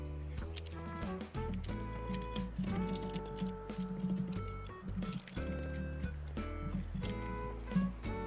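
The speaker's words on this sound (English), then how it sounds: "Sorry for my typing. I know you can hear it." Computer keyboard typing during a game session, with rapid clicky keystrokes in uneven bursts over steady background music.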